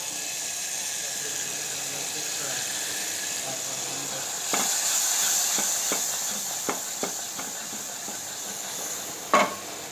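Ginger garlic paste sizzles and hisses in a hot pan, a steady frying bed with a louder burst midway and several sharp stirring clacks and scrapes toward the end.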